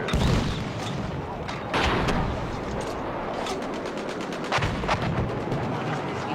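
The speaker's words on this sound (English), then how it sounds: "we're gonna see some mortars" Mortar fire in a combat game: repeated heavy booming blasts and gunfire crackle at irregular intervals, with distant shots layered over a dense, continuous battle din.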